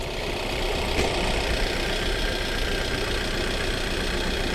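Engine of a faulty Kia car running at an auction lot, a steady rough idle with a dense, constant mechanical rumble and knocking, close and fairly loud throughout.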